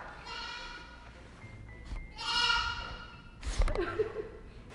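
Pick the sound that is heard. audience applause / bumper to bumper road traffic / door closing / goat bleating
goat bleating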